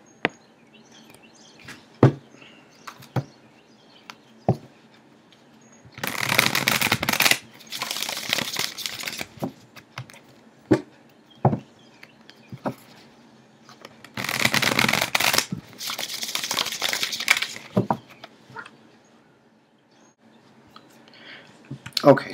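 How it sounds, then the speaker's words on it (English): Tarot cards shuffled by hand in two long bursts of riffling and ruffling, separated by sparse sharp taps and clicks of cards being cut and set down, close up in a quiet room. "Okay, so I just finished shuffling and cutting."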